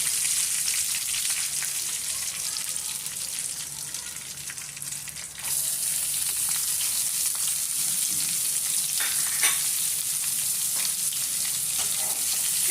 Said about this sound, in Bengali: হালকা ভেজে নেব পেঁয়াজটা